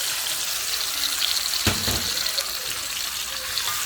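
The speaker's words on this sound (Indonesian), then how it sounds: "ini mau kita tumis ya, atau kita goreng sampai kadar air dari si cabenya itu berkurang ya" Ground large red chilies and bird's eye chilies fry in a pan for a Thai-style red beef dish, giving a steady close hiss and sizzle, with a brief clatter of stirring midway.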